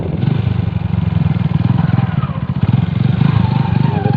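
A Yamaha RX motorcycle engine running close and loud, a fast steady two-stroke putter with a slight rise and fall in pitch, alone.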